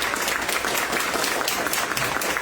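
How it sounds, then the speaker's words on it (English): Audience applause for candidates at a political candidate forum, a dense, steady burst of clapping that fills the short stretch at an even level with no voices over it. "let's give these fine people a big round of applause"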